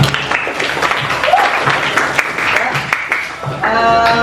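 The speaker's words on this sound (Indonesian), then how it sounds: "Tepuk tangan untuk kita semuanya." A room of listeners claps at the close of an Islamic religious lesson, steady scattered applause running throughout with voices and some cheering mixed in, fairly loud and close.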